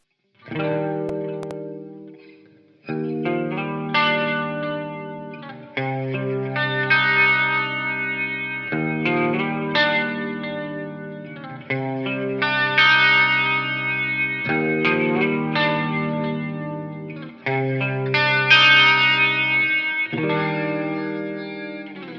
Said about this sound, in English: I actually don't have any distortion on this sound, besides a little bit of crunch from the amp.